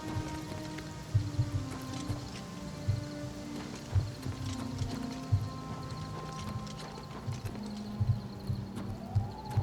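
Horse hooves clip-clop in the video game Oblivion Remastered, a loose rhythm of solid thuds over a soft, rain-like ambient patter. No one speaks.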